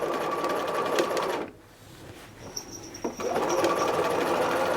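A sewing machine stitches around a fabric hem in steady, fast whirring runs. The stitching halts briefly midway, with a few soft clicks and handling noises, then starts up again, loud and close.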